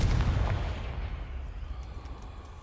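The Confringo spell in the game Hogwarts Legacy blasts with a deep, loud explosive boom that rumbles and slowly fades over a couple of seconds.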